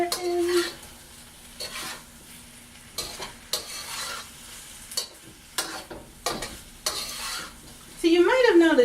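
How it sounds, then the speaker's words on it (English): Shrimp and eggplant being stirred in a pan, intermittent scraping strokes and clinks of utensil on metal over a low sizzle, close by, with a short burst of voice at the very end. "Give everything a good stir in."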